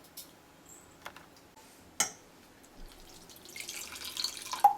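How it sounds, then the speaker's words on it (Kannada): Water trickles and drips into a bowl of soaked flattened rice in a home kitchen, starting with sparse faint drops and ticks, then building into a soft, continuous pour toward the end. "ಇದಕ್ಕಿನ್ನ ಸ್ವಲ್ಪ ನೀರು ಹಾಕ್ತೀನಿ"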